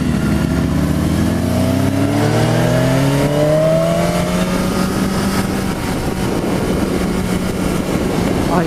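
A BMW S1000RR sport motorcycle on a track revs hard, its engine pitch climbing through the gears and then holding a steady high drone, loud and close, with no talking.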